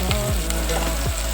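Curry leaves fry in hot oil for cucumber sambar with a loud, close, continuous sizzle, and a couple of quick scraping stirs come through.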